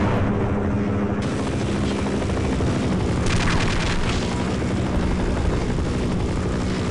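Helicopter hovering overhead in the Half-Life video game, a steady loud rotor drone with heavy low rumble that holds throughout, with no talk over it.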